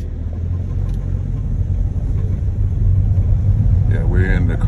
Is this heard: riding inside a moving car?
yes